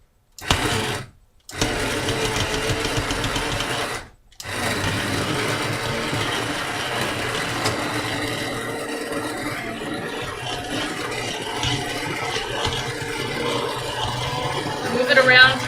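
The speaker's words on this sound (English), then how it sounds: "then I would blend it all up. Okay, high heat, high speed." A blender whirs at high speed, pureeing creamy mushroom soup with tofu in a pot, a steady loud motor drone after two brief starts, with a faint voice in the background.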